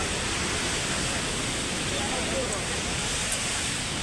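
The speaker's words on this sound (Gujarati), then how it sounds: "જો ડેમ આખું ભરાઈ ગયું છે." Water pours over a completely full dam in a steady, loud, broadband rush that stays even and continuous throughout, with no voices heard.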